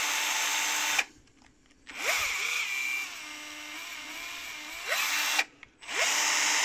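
Parkside cordless drill driving with PSKB 3 hex-shank bits, a loud steady whine that runs, dips to a lower hum, then revs up again in close bursts, no talk.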